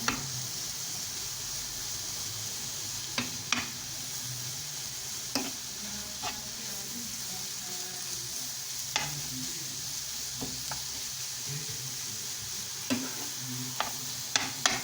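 Carrots sauté with eggs in a pan for kaygana, making a soft continuous sizzle broken by occasional light spatula taps and scrapes, close and fairly quiet, no voices.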